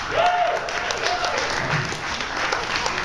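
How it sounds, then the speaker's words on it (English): An audience applauds steadily at a talk, close and fairly loud, with a brief voice sounding over the clapping near the start. "So, round of applause."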